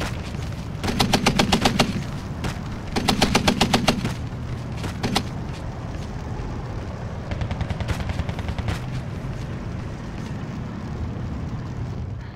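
Machine-gun fire rattles through a video game battle in two sharp bursts early on, followed by scattered distant shots and a lingering rumble of combat.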